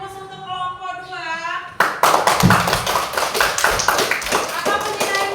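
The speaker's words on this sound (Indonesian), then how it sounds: "Beri aplaus untuk kelompok 2" A school class applauding a student group, loud close clapping from many children that breaks in suddenly after a teacher's voice and continues steadily.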